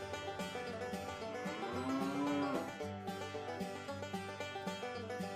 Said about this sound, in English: They've even got longhorn cattle here.